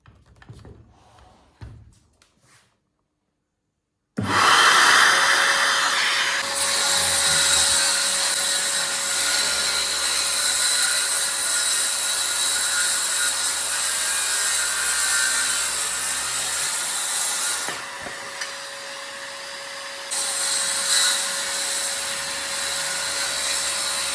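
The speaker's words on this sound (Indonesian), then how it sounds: "Kita gunakan vacuum cleaner dari Molar." A Mollar VC1008 10-liter dry and wet vacuum, used as a workshop dust collector, starts after a quiet moment and runs as a loud steady whine, with woodworking sounds rasping briefly underneath.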